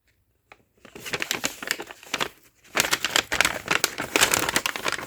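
A paper envelope is opened and handled, loud close crinkling and rustling in two bursts separated by a short lull, crisp and irregular.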